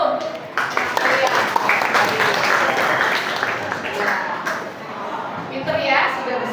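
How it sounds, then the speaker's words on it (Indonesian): Classroom applause from students clapping for a classmate's correct answer, a dense steady patter of many hands filling the whole stretch, close and fairly loud. "Ya, tepuk tangan dulu"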